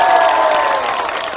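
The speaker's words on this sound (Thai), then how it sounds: "ไหนปรบมือดังๆจับ8นิ้วสิครับพี่น้องครับ" Dense applause and crowd noise at an outdoor Pheu Thai political rally in Chachoengsao, Thailand, loud and steady for a moment before easing slightly.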